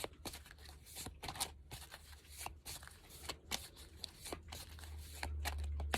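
A deck of cards shuffled by hand close up, a steady run of papery riffles and slaps with a low hum underneath.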